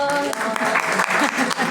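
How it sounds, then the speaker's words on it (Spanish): A burst of clapping from an audience at an academic historiography seminar, steady and fairly loud throughout, with voices mixed in beneath it. "un fuerte aplauso para el doctor Cermeño."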